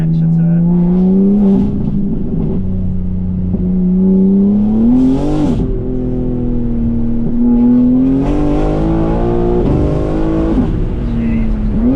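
A BMW performance sedan, either a G80 M3 or an F10 M5, revs hard with windows down on the street, its engine note rising and falling in loud sustained pulls, with voices talking over it.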